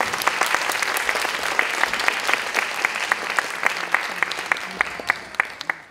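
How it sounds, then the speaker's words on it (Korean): Audience applause welcoming a pastor at a Baptist pastors' seminar: an even roomful of clapping with a few sharp, distinct claps standing out on top, continuing steadily throughout. "박수로 모시겠습니다."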